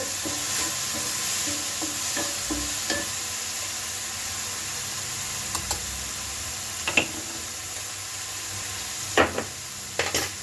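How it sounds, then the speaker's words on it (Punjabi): Cauliflower sizzling in hot olive oil in a home kitchen, a steady low frying hiss with occasional stirring clinks and taps from a utensil against the pan. "ਮੈਂ ਅੱਜ ਜਤੂਨ ਦੇ ਤੇਲ ਵਿੱਚ ਬਣਾ ਰਹੀ ਗੋਭੀ"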